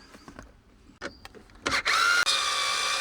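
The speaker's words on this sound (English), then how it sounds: "We're going to undo these bolts, and we're going to pop this black cap off." A powered driver spins out a T25 bolt on an INEOS Grenadier's starter-system cover, a few short clicks and taps first, then a loud steady whir running close up to the end.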